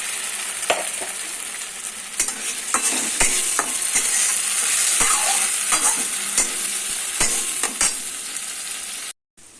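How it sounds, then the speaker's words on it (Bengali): Pumpkin leaves frying in a pan, with a loud continuous sizzle and frequent sharp scraping clicks of a spatula stirring, no talking, cut off abruptly near the end. "এটা একটু ভাজা ভাজা হয়ে গেলে আমি এই পেস্টটা দিয়ে দেবো।"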